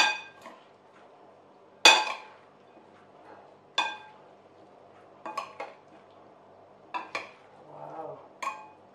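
Cucumber, avocado and tomato salad is tossed in a bowl, giving sharp clinks of utensil on bowl at irregular gaps between stretches of soft rustling.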